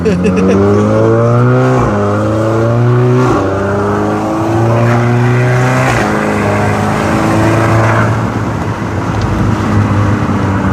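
A tuned stage 3 car engine roars loud and close, pitch climbing through repeated gear pulls with brief dips between shifts, while people talk over it.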